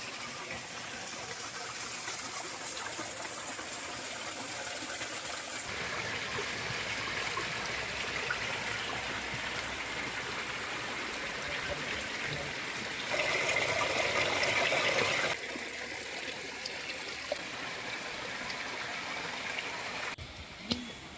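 Small forest waterfall and stream at the Amboori tourist spot near Thiruvananthapuram, Kerala, a steady broadband rush of flowing water throughout, fairly close and constant, with faint other noises but no clear talk.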